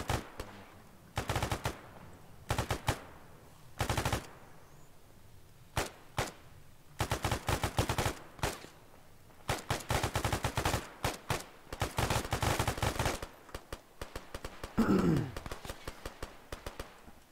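Machine gun fire in a military video game comes in repeated short bursts with gaps between, loud and close, the weapon prone to overheating and throwing tracer rounds, with no talk over it.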